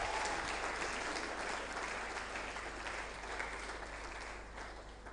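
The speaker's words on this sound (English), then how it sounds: "Please round of applause." Audience applause at a distinguished lecture, a steady wash of clapping from a large hall that holds evenly throughout and fades slightly toward the end, heard at a moderate distance with no talking.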